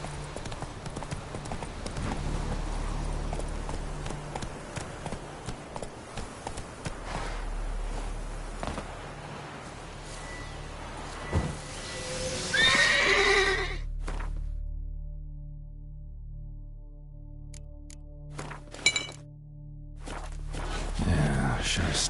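Roach the horse runs in The Witcher 3 on Death March difficulty, with rhythmic hoofbeats for the first half under a voice, then the ground sound cuts away to sparse clatter and ambience.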